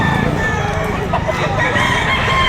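Roosters crow repeatedly at a busy Saturday gamecock market behind a shopping mall in Lipa, Batangas, the calls overlapping and fairly close amid constant crowd murmur and faint clucking.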